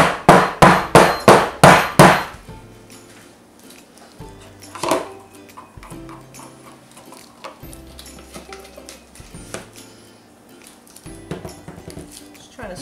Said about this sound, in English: Give that a whack.